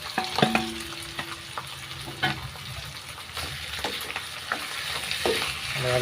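Marinated pork sizzles steadily in a pan with browned mushrooms, a continuous close frying hiss broken by scattered spatula scrapes and clinks as it is stirred, with no talk.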